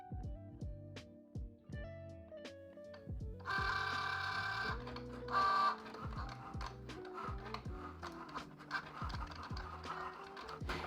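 Cricut Joy cutting machine slicing vinyl on a mat, a busy run of small motor whirs, clicks and rapid mechanical stepping at close range, with a louder buzzing stretch midway.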